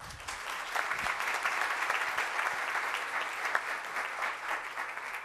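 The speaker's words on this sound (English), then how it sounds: "Let's give him a big round of applause." Steady, dense applause from an audience at a city council proclamation ceremony, welcoming a high school student one morning. It holds evenly for about five seconds with no talking over it.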